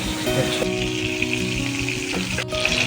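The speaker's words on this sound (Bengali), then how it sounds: "আর ফুলকপিটাই খালি একটু ভেজে নেব" Cauliflower pieces fry in butter and oil in a pan, giving a steady close sizzle with faint clinks and a low musical hum running underneath, no talking.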